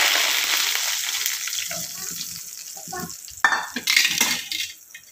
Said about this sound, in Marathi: तर ही फोडणी चटणीमध्ये ओतून घेते मी